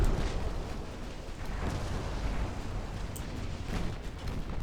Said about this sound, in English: More effing torpedoes.